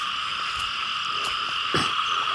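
Frogs croak in a rice field at night, a steady dense chorus of calls with a few louder nearby croaks rising above the constant insect-like drone.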